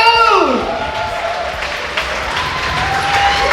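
Audience applause breaks out at a glitzy brand-ambassador launch party, a broad wash of clapping and light cheering that holds steady, with a falling tonal sweep at the start and a faint tone ringing near the end.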